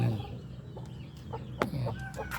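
Rhode Island chickens cluck nearby in short, soft, scattered calls over a low background hum, with no one talking.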